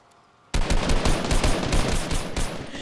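An assault rifle fires in a video game: after a brief quiet moment, a loud, rapid automatic burst of shots rattles on without pause to the end.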